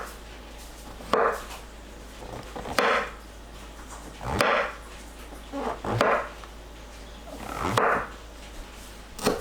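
A knife slices king oyster mushrooms on a cutting board. Six distinct thuds and soft scraping cuts come at roughly even intervals, close and clear, over a low steady hum, with no talking.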